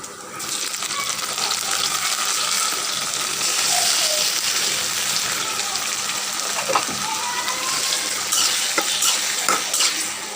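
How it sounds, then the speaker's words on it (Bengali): Tomatoes with onion and green chili being stirred and fried in oil, a steady close sizzle with scraping spoon-on-pan strokes and occasional utensil clinks throughout, no talking. "এবার আমি এভাবে আস্তে আস্তে করে নেড়ে চেড়ে ভেজে দেবো।"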